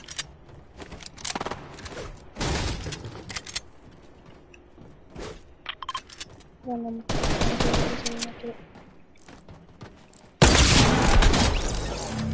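Shotgun and other gunfire in a multiplayer shooter video game, with several loud bursts of shots and blasts separated by quieter stretches, up close.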